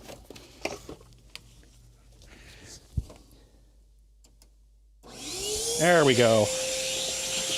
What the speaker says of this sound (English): let me swap out the head on the vacuum for the brush